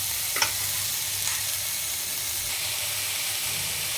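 Ridge gourd pieces go into an onion tempering with curry leaves and turmeric, a steady close frying sizzle and hiss with a brief clatter at the start, continuing evenly with no talking.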